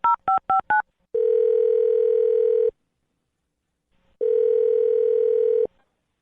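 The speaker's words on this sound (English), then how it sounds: "I'm going to dial this phone over right now." A landline telephone is dialed with four quick touch-tone beeps, followed by two long, steady ringback tones separated by a pause of silence, all close and clear with no talking.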